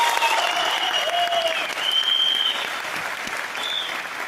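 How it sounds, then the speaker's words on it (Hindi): Steady, loud applause from a large crowd at an award function fills the clip, with a few tonal whistles or squeals riding on top. "तो आप सब अचीवर्स के लिए एक जोरदार ताली।"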